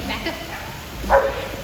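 A dog barks once on command, a single short bark in the middle, with a person talking around it.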